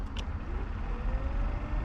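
A BMW E30 car runs with a steady, low engine rumble, close and continuous with no clear start-up burst.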